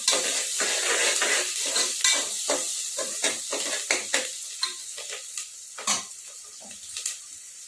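Onions browning in a hot pan, with a continuous sizzle and repeated scraping, clinking stirs of a spoon against the metal at an irregular pace, close and fairly loud, with no talking.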